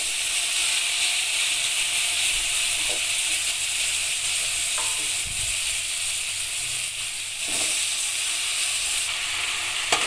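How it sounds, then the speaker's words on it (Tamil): Chopped vegetables sauté in oil in a pan for a quick side dish, producing a loud, constant, close sizzle with a few faint taps of stirring throughout. "இது நல்லா எண்ணெயில் நல்லா பரட்டி பரட்டி நல்லா வதக்கிடலாம்"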